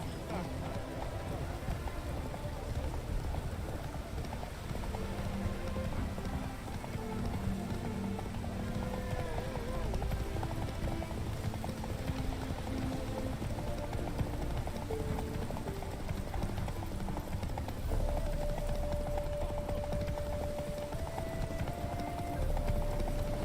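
Roach, the horse in The Witcher 3, clip-clops steadily at a moderate distance, the hoofbeats sitting under a dense bed of game music and ambient noise, with a faint sustained tone near the end.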